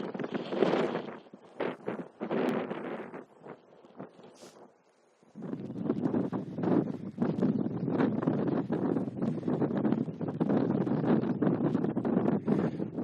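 Strong wind of about 20 mph blasts a microphone outdoors in the Florida Mountains of New Mexico, roaring in heavy gusts with a short lull midway, then blowing steadily and loud to the end.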